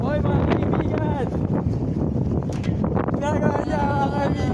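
Steady outdoor wind buffets the microphone in a continuous roar, with people talking over it at a thanksgiving party gathering.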